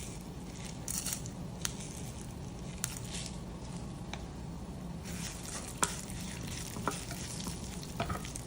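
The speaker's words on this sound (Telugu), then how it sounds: "కొంచెం ఆవాలు, జీలకర్ర, కరివేపాకు, ఎండుమిర్చి, శనగపప్పు, లాస్ట్లో ఇంగువ, 4 నుంచి 5 వెల్లుల్లి వేసి వేపుకోవాలి" Mustard seeds, cumin, curry leaves, dried red chilli, chana dal, asafoetida and garlic frying in oil for an Andhra ridge gourd chutney tempering, a steady close sizzle with scattered sharp pops and crackles.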